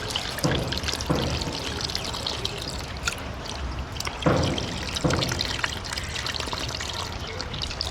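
Dissolved tamarind water is poured into a fish curry with eggplant and drumstick cooked outdoors, a continuous close trickle with a few splashy surges.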